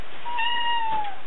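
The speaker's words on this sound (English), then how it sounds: "Kitty. Kitty cat." A house cat gives a single clear, close meow that rises and then falls in pitch, lasting about a second, with no speech.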